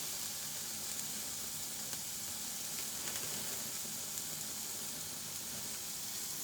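Chicken boti kabab pieces roasting directly over a high gas flame, a steady soft hiss and sizzle with faint crackles, continuous and fairly quiet with no talking.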